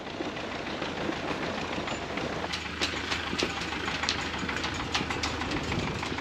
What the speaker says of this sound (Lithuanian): Traktorius traukia jachtas lauk.